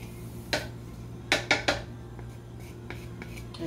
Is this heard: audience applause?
no